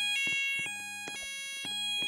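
An electronic fire alarm in an Asda supermarket sounds in repeating two-tone pulses, bright and steady, with shop ambience underneath and no talk during the tones.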